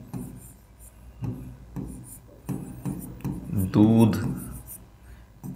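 A teacher writes on a board during an Urdu grammar lesson. Short scratchy strokes come in several separate bursts at close range, mixed with the teacher's speech.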